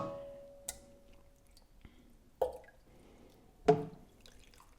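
Soft water poured into a dye pot layered with wool and crottle lichen, landing as three separate, quiet splashy drips close by, with near silence between them.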